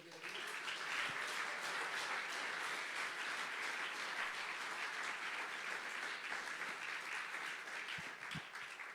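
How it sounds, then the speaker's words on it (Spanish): A church congregation applauds, a dense, sustained wash of many hands clapping evenly across the whole stretch, heard from a moderate distance with a few sharper claps standing out near the end. "¿Puedes darle un aplauso al Señor?"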